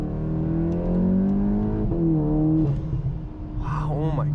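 Car engine held at high revs, a loud, steady tonal drone that sags and rises, ending in a short burst of crackling exhaust pops.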